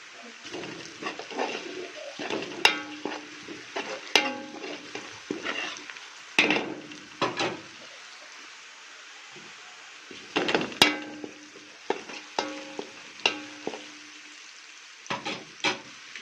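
Onions fry in a pan while a spoon stirs them, with repeated scraping and clinking strokes over a soft, steady sizzle, close up.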